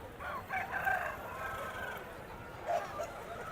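A rooster crows at a distance, with a second fainter crow near the end, over steady outdoor background noise at a poultry market.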